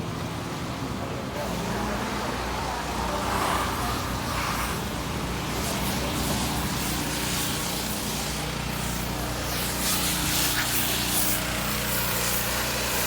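Steady street traffic on Lower Broad Street in Bridgetown, Barbados, beside Jubilee Garden, forms a constant, fairly even wash of engine and road noise with no single vehicle standing out.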